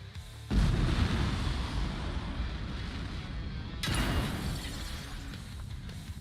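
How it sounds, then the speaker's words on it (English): An exploding barrel in the video game Everywhere sets off a loud booming crash with a shattering edge, followed a few seconds later by a second burst, both rolling into rumbling noise with no voices. "when that barrel explodes, when the explosion happens, it should trigger this logic"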